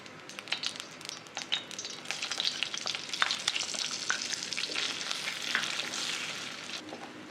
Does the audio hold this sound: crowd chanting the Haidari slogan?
no